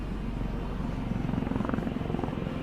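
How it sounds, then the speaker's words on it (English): A helicopter over the Australian outback gives a steady, pulsing rotor chop, moderately loud and continuous, with no voices. "The helicopter's come back."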